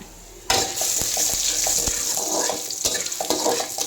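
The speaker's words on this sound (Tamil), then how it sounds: "நம்ம எடுத்து வச்சுருக்கிற கடலைப்பருப்பும் காஞ்ச மிளகா போட்டு இதை இப்போ வதக்கணும் லைட்டாக" Chana dal and dried red chillies sautéing in a pan, a steady close sizzle with stirring scrapes and clinks running throughout, no voices.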